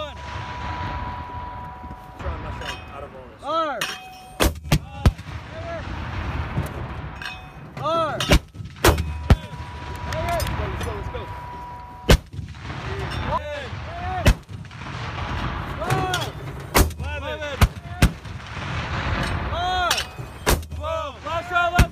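Rapid mortar fire for effect during a military training exercise, roughly a dozen sharp, loud booming rounds fired in quick succession with short gaps, amid faint crew voices and outdoor ambience.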